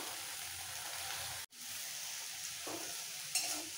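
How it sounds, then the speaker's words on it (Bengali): Kharkol leaves and spices fry in a pan with a steady, moderate sizzle, broken by one short dropout and a few stirring scrapes near the end. "নরম হওয়া পর্যন্ত একটু ভেজে নেব। এক সেকেন্ড একটু নাড়াচাড়া করে"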